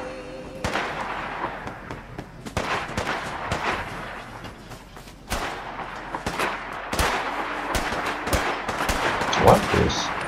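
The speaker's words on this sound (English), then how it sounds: "Who they are shooting at?" Gunfire in the Fallout 4 video game, rapid cracks and shot bursts scattered throughout, fairly close and busy, with some other game sounds between.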